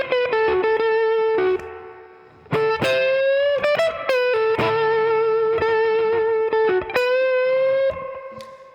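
A slow blues lick in the BB King style on a Heritage electric guitar through a Fender Super Reverb amp: single bent, sustained notes with vibrato, picked in short phrases with brief pauses, clean but fat and slightly driven, no talking.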